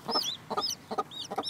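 Hen clucking in short repeated bursts with high, thin peeps of newly hatched chicks chirping between them, close and clear, no talking.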